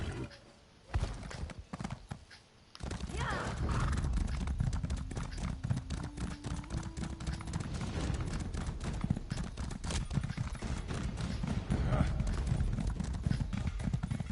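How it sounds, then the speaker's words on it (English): A horse carrying two riders gallops in The Elder Scrolls Online, a dense continuous patter of hooves with bursts of gunfire-like combat noise, steady and fairly close, partly under someone speaking. "maybe the Skyrim horse doesn't work as well when you have 2 riders on it"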